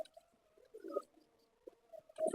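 Pigeons on a rooftop cooing softly in short, scattered bursts, faint and a little distant, with quiet gaps between calls and a louder coo at the end.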